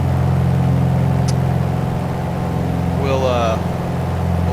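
A Piper Arrow engine runs up in the MSFS 2020 flight simulator, a steady mid-pitched drone under talk, with the propeller briefly cycled and the pitch shifting near the end.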